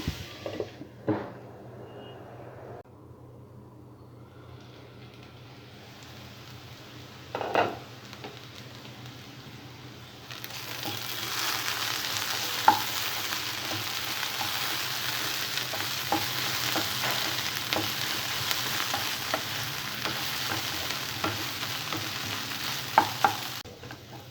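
Chopped ivy gourd (tindora) fries in a pan, a quiet faint sizzle with a few utensil knocks that swells midway into a loud, steady crackling fry with occasional scrapes, close by and without talk.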